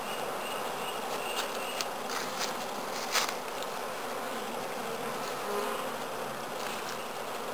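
Honey bees swarming over an open hive's brood nest, a dense continuous buzzing hum filling the air at close range, steady throughout with a few faint clicks.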